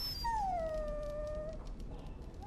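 A dog in Dragon Age Origins lets out a single long, drawn-out whining howl that slowly falls in pitch, clear and alone over a soft background.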